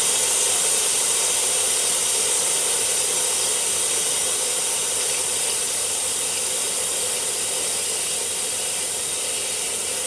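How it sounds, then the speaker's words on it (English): Steam hisses steadily and loudly from an Instant Pot pressure release valve after cooking pork chops, a continuous bright rushing spray that holds at a constant level throughout with no talking. "And release all the steam."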